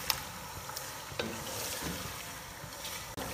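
Beef and garlic paste stir-fried for Eid beef nihari, a steady close sizzle with occasional spoon scrapes against the pot, no voices.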